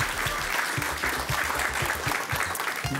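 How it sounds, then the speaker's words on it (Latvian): Sustained audience applause at a talk, a thick continuous patter of clapping hands with a low rumbling hum underneath, steady throughout. "nu aplausi Mārtiņam!"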